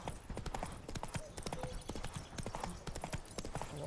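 Quick clip-clop hoofbeats of the horse Roach galloping in The Witcher 3, a steady rapid patter close by with faint ambience underneath.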